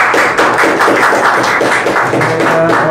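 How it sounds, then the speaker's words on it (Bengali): An audience claps together at a Silver Play Button celebration, a loud, steady patter of many hands that keeps going for the whole stretch. "সবাই একটা হাততালি।"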